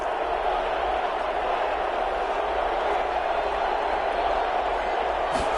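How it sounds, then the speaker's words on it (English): Football stadium crowd before a big third down, a broad continuous roar of distant cheering and noise that holds steady throughout, with no clear talk over it. "the crowd getting into it as we come up on a big 3rd down."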